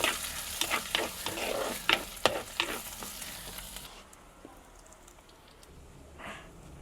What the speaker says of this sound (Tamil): நல்லா எண்ணெயில் வதக்கி விடுவோம்.